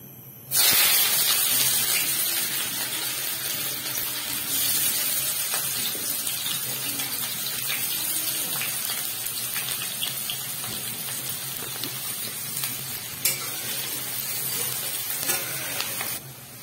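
Onions and chopped vegetables hitting hot oil in a pan, bursting into a loud, continuous close sizzle with occasional stirring scrapes throughout.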